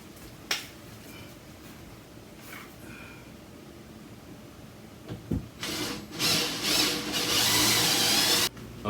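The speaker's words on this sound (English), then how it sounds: "once you drill the holes in the back" A power drill bores holes into the wooden back of a drawer. A few quiet knocks and handling sounds come first, then the drill runs loud and continuously for about three seconds.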